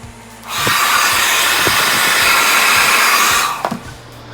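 A hair dryer switches on with a loud, steady airy whoosh, runs for about three seconds, then cuts off, with faint clicks and taps around it, drying ink-stained RealCare baby doll.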